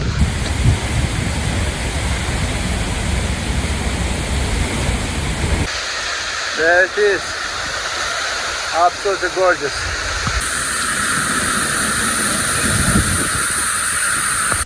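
Icelandic waterfall heard from behind the falling water, a loud, steady roaring wash that continues throughout while someone speaks briefly over it.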